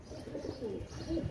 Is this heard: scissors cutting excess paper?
no